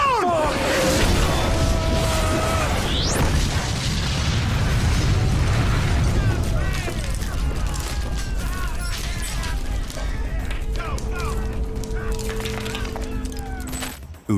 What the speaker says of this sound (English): a brief but intense exchange of gunfire